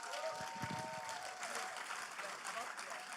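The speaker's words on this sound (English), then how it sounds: "can you give the guest ministers a round of applause?" A faint, steady round of applause from an audience for the guest ministers at a panel discussion on emotional intelligence in the workplace, an even wash of clapping at a low level.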